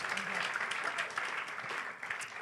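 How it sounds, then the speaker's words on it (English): Congregation at a Sunday service in a spiritual life center breaking into applause, a dense patter of many hands clapping, fairly quiet and steady throughout. "let's give all of them a round of applause for their support for that event"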